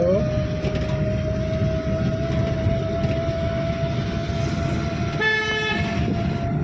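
A car horn sounds one short, bright blast near the end from inside a driving-school car, cutting through a constant engine drone and road noise.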